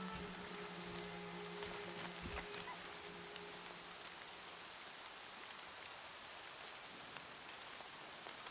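Rain falls steadily in the game Horizon, a soft, even hiss of drops across the ground with a few scattered crackles and brief clicks near the start, faint and continuous, with no speech.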